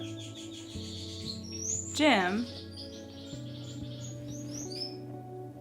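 A pet finch named Jim chirps and sings in a series of quick, high tweets, with one brighter trilling burst in the middle, as a person speaks nearby over a low indoor hum.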